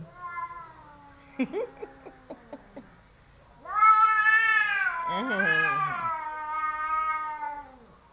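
A cat meows and complains: a few short chirping mews at first, then long, loud, drawn-out wailing meows that waver in pitch and carry on to the end, close and clear.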